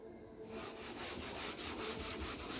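Writing is rubbed off a board with steady back-and-forth scrubbing strokes, close and fairly faint, in a rhythmic series with no voices.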